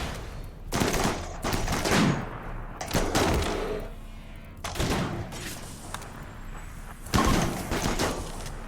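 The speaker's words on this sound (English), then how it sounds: "there's a lot of gunfire coming my way" Gunfire from a RimWorld battle against raiders and sapper groups: dense, bursty volleys of shots in several loud clusters, with brief lulls between bursts, no talking.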